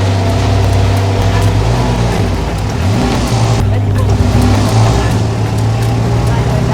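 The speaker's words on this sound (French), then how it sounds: "je vais enfin conduire un véhicule." Vehicle engine driven at an agricultural driving contest, a loud steady drone with changing revs and a brief dip midway, continuous beneath someone speaking.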